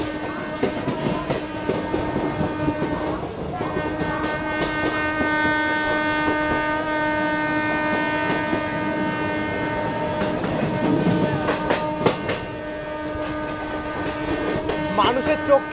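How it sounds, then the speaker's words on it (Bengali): A Lalgola passenger train pulls into Dum Dum Junction, wheels clattering steadily over the rails while its horn sounds in long, sustained blasts, with scattered clanks and background station noise. "ওই পাশে এই যে লালগোলা প্যাসেঞ্জার ঢুকছে"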